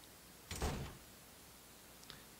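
A door opening in an RPG Maker video game: one short whooshing sweep, fairly loud and alone, followed by a faint brief click.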